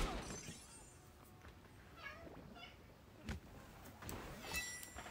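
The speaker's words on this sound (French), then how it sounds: "Si vous entendez miauler, c'est rien. Ça fait pas partie du jeu, c'est chez moi." A house cat meows a few times in a home, faint and intermittent against the quiet background noise of a game being played.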